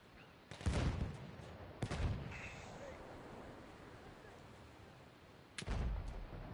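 Video game gunfire: three heavy, booming shots or short bursts at irregular intervals, each with a rumbling tail that fades into a low ambient background.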